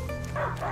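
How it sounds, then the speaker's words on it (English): A dog in the A Plague Tale video game barks and yips in a short burst of sharp, close calls over game ambience. "Stop barking."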